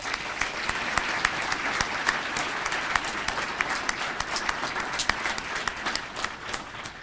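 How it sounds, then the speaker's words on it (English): An audience at a televised all-stars reception for a sponsor applauds steadily, a sustained bed of many hands with a few sharp individual claps standing out near the front, continuing for several seconds without speech. "Let's give him a round of applause."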